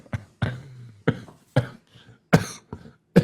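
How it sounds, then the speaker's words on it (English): Several short, sharp coughs from one person, close and loud, come in irregular bursts with brief gaps and a throat-clearing quality, alone without talk. "I'll start coughing"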